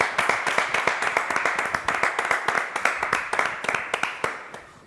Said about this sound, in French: On va l'applaudir, Antoine.